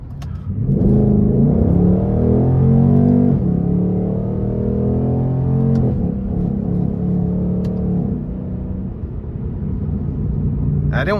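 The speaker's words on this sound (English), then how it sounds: "Now shifting with the paddles is pretty quick." A 2023 Ford Mustang GT Premium with its 450 hp 5.0 V8 rumbles loudly from inside the cabin. It revs and climbs, then drops sharply with quick paddle-shifted gear changes, while someone talks over the engine.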